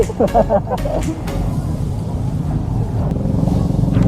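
A motorcycle engine rumbles past on a road near a beach in Nasugbu, Batangas: a loud, close, low drone that holds steady through the clip, with brief voices at the start.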